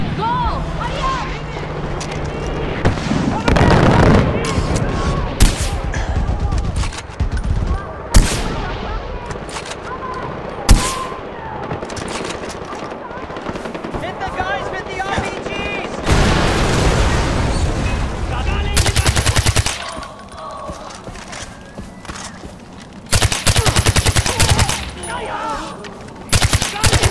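Gunfire from a Far Cry 4 battle, with loud bursts of machine-gun fire and shots crackling close by amid booms and chaotic combat noise, while shouted voices break through now and then.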